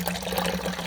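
Cooled beer wort for a chocolate oatmeal stout flows out of a homebrew wort chiller in a steady, close liquid stream with a gentle trickling pour throughout. No one speaks.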